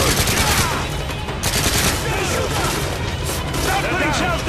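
Rapid mortar and gunfire in the Modern Warfare 3 Wii campaign, a dense continuous barrage of booms and cracks with voices shouting over the loud battle throughout.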